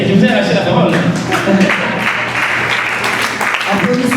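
Applause at a conference gathering in Kinshasa, a full, busy crowd clapping loudly and continuously, with voices and cheering woven through the noise.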